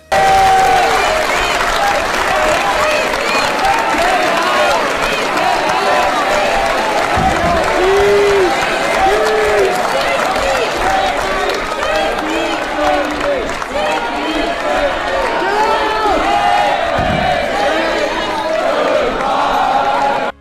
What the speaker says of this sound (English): The people in the crowd just started chanting them goodbye.